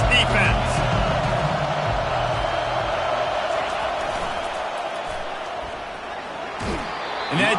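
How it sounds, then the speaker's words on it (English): Dense college football stadium crowd roars steadily through a big third-down defensive stand, a broad sustained wall of cheering with a brief swell near the end, while a commentator talks over it. "Big 3rd down as the crowd gets behind this defense."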